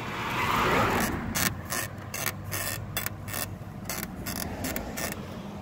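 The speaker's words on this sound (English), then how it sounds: "That creaking noise, when I go in reverse or like I go up like a driveway." Creaking from the passenger-side taillight of a 2018 Ford Mustang GT as the body flexes when reversing or climbing a driveway, heard as a series of short, sharp clicking creaks over steady background noise.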